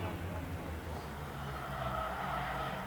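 Race cars in an eight-lap 6 shooters heat race roar together as a continuous distant engine drone, with a steady rumble and no individual passes standing out.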